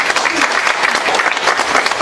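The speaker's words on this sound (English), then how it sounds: "So we give them a round of applause." A room full of people clapping steadily, a dense, even patter of applause with no pauses, fairly close.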